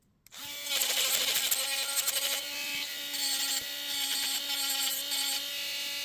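Steady high-pitched whine of a rotary tool running continuously while polishing a copper ring with a finer polishing bit, loud and close, with slight shifts in pitch as it works the metal.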